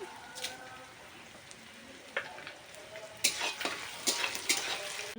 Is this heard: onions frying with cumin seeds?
yes